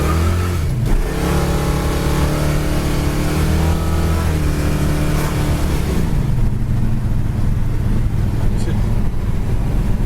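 A 1970 Plymouth Satellite Road Runner clone's engine revs loudly and close by, with deep rumbling pulls that rise and settle into a steady, throaty drone.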